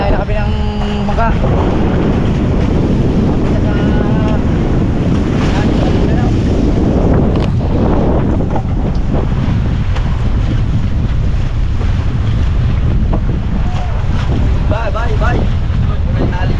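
A boat's engine drones steadily as it tows another boat at sea, amid loud wind buffeting and sea noise, with voices calling out briefly near the start and end.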